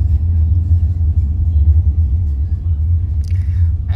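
A steady low rumble from inside a car on a winding road to Genting, heard from the rear seat, continuous and close with no other sounds standing out.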